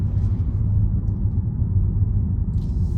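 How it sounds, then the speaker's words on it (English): Steady low rumble of road noise inside a moving Hyundai Ioniq 6 electric car, constant and fairly loud with no talking. "there is quite a lot of road noise in this compared to the Kona."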